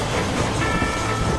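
A train running in the video game Red Dead Redemption gives a steady, broadband rumble and rolling noise, close and continuous through the short moment, with no voices.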